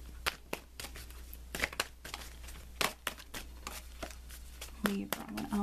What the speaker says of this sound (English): I want to give these cards a good shuffle.